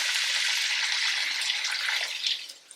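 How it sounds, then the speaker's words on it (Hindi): A cup of water pours steadily into a pan of mixed vegetable curry with peas, a continuous splashing gush close by that fades out at the end, with no talking. "पानी में इसमें डालूंगी 1 कप जितना,"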